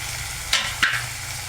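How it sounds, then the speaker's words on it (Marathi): Chopped onion and tomato fry in oil in a pan, a steady sizzle with two sharp scraping stirs near the middle, close and fairly loud, no voices. "कांदा आहे ना पटकन लाल होतो आणि पटकन परतल्या जातो"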